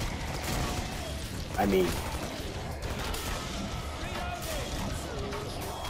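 Video game gunfire in Killing Floor, with rapid shots crackling through a dense, noisy battle mix and a brief louder burst near the middle, while players talk over the chaos.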